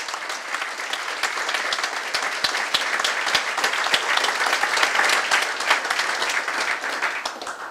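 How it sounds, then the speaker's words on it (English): A room of guests at a chamber of commerce awards dinner applauds, dense, steady clapping that carries on evenly for several seconds at a moderate, close level. "Can I get a hand of applause?"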